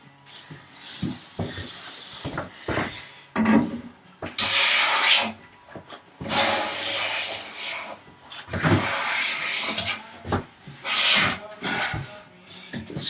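Hand plane pulling full-length shavings while flattening a workbench top, repeated whooshing strokes of a few seconds each separated by pauses, fairly close, with a few brief knocks between passes.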